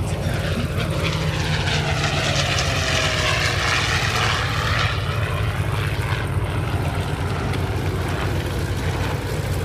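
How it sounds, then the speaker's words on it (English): A P-40C Tomahawk or A6M Zero propeller fighter flies past, its piston engine drone loud and steady throughout with a sweeping pitch shift as it passes, no talk. "Here it comes again."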